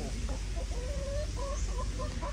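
Chickens clucking on a Vietnamese farm, a series of short, moderately close clucks and rising calls over a steady low background rumble, with no one speaking.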